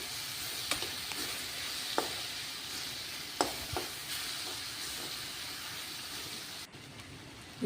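Mushroom gravy masala with tomato fries in a pan, giving a low, steady sizzle marked by several brief stirring scrapes and taps, and a sudden drop in sound near the end.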